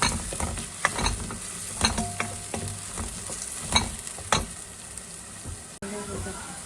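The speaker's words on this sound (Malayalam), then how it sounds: "ഈ ഇഞ്ചിയും വെളുത്തുള്ളിയും ഒക്കെ നല്ലവണ്ണം മൂത്തിട്ടുണ്ട്." Ginger and garlic frying in hot oil for a Kerala-style sweet lemon pickle, a steady close sizzle broken by irregular clinks and scrapes of a stirring spoon against the pan.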